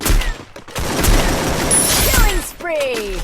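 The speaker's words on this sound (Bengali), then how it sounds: "উডপিকার দিয়ে মারার অভ্যেস হয়ে গেছে, তাই তো উডপিকারে হেডশট লাগিয়েছে" Woodpecker rifle fire in a mobile battle-royale shooter rings out as a burst of sharp, loud gunshots over ongoing game noise, with a voice talking over the action.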